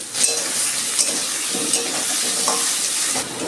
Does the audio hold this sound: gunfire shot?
no